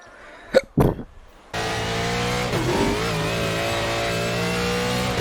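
Ford GT1 race car in a racing video game at Mid Ohio, engine droning steadily at high revs under hard power after a couple of short bumps, loud and continuous.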